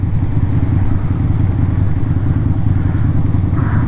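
A Harley motorcycle rides through a snowy blizzard, its engine a steady, loud, close rumble that continues without a break, with a wash of wind noise over it.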